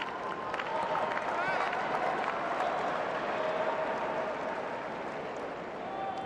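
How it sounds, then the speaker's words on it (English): Nervous crowd applause at the 2024 US Open women's tennis final between Pegula and Sabalenka, a steady wash of clapping and murmur spread across the stadium, continuous throughout with faint whistles and voices mixed in. "Definitely some nervous applause from this crowd"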